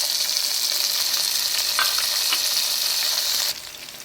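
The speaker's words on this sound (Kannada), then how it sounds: "ಇದಕ್ಕೆ ನಾನೀಗ ಕಟ್ ಮಾಡಿದಂತಹ ಟೊಮೆಟೊ ಸೇರಿಸ್ಕೊಂಡು ಒಂದು ಸ್ವಲ್ಪ ಫ್ರೈ ಮಾಡ್ಕೊಳ್ತಾ ಇದ್ದೇನೆ" Chopped tomatoes frying in hot oil for an avocado sabji, a loud continuous sizzle heard up close with a few stirring scrapes, dropping suddenly to a softer hiss near the end; no talking.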